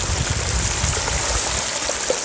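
Hot oil in a turkey fryer pot churns and bubbles hard as water boils out of it, a steady, dense seething rush with low gurgling throbs, close and continuous.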